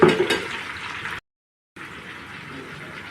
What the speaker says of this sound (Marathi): शिमला मिरची छान आता मसाल्यात परतून घेते